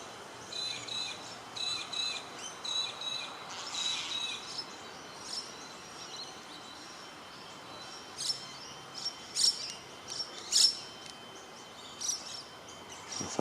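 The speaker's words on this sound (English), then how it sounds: "Those Myna birds gang up and they're quite nasty." Myna birds and parrots squabble over a nest hole, with sharp chirps and calls breaking out in clusters, loudest near the end, over a steady insect-like background hiss outdoors.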